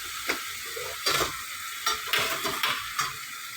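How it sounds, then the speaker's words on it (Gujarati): Ground chilli dropped into hot oil for a tribal-style goat tripe dish sizzles steadily, with several sharp stirring knocks against the pan spaced through the few seconds, close and fairly quiet, with no talking. "હવે તેલ ગરમ થયા બાદ એમાં નાખીશું વાટેલું મરચું।"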